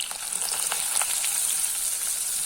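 Green onions frying with mustard seeds and cumin in hot oil give a steady, close, broad sizzle with scattered small pops and crackles, unbroken across the short stretch with no voices.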